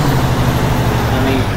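A heavy truck engine in American Truck Simulator idles with a steady, loud low rumble, constant and close for the whole moment.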